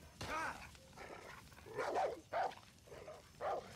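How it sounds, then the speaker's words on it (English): A dog in the video game Far Cry 6 barks and whimpers in several short bursts, fairly close and somewhat muffled, with gaps of quiet between the yelps. "Bad dog."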